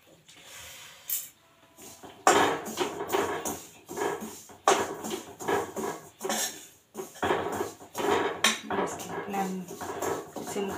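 Sesame seeds roasting in a pan on a gas stove, a spatula scraping and clinking against the metal in repeated strokes with a faint sizzling hiss, close and fairly loud.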